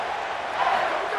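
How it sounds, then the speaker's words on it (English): A football stadium crowd at an ACC Championship game between Miami and SMU roars in a steady, dense wash of cheering, loud and continuous with a slight swell midway. "And listen to this crowd. They're loving the elements"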